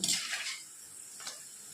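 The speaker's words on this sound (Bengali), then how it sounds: "গোটা গোটা পাঁপড় দিলে কড়াই ভর্তি হয়ে যাবে, ওর জন্য এরকম টুকরো টুকরো করে আমি সব পাঁপড়গুলো ভেজে নেব।" Papad pieces frying in oil in a kadai: a soft, bright hiss of sizzling that is strongest at the start, fades to a low steady fizz, and gives one small crackle midway, close and quiet.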